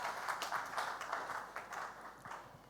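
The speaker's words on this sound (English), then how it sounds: "welcome everyone here with a round of applause, please" Faint, distant applause from an audience at an education technology panel event, a soft steady patter of clapping for under three seconds.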